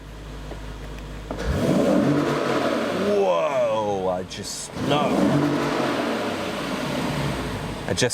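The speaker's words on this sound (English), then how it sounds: "the sound of that car is incredible" A 2016 Lexus GS F's engine revs up in a sharp rising sweep and drops back, heard from inside the car with someone talking before and after.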